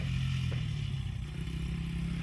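A 1995 Honda XR80 dirt bike with a brand new carburetor runs steadily at moderate distance, its low engine drone holding throughout with a brief change in pitch suggesting a gear shift.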